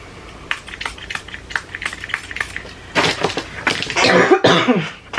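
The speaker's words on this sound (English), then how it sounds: "I'm not going to cut my coughing out because I'm lazy." A person coughs several times during a real-time scrapbook layout session, loud and close, mixed with small clicks and rustles of crafting materials and no speech.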